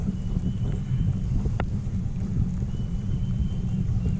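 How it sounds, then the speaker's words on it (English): Steady wind rumbles and buffets across the microphone out on Lake Hickory, North Carolina, during bass fishing from a boat; a constant low roar throughout, fairly faint, with no talk. "Boy, look at that wind all of a sudden."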